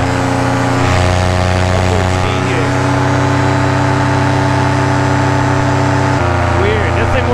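A paramotor engine and propeller droning loudly and steadily in flight, with a strong harmonic whine, continuous wind rush and a brief shift in engine tone near the end.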